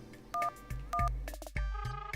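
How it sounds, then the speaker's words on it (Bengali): Cartoon telephone dialing and ringing: a few crisp electronic dial tones followed by short repeated ring bursts, close and clear, with a brief gap between tone groups, no talking. "রিং হচ্ছে, রিং রিং"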